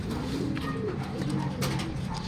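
Racing pigeons coo in a loft with many birds, low repeated cooing from several birds close by over constant background noise.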